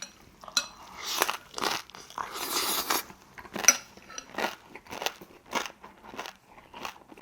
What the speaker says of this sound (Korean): 저 씹는 소리 들리죠?